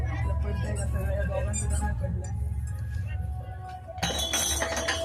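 Glasses get knocked over in a throwing game at an amusement park, with a sharp clattering clink near the end that follows steady background chatter and talking.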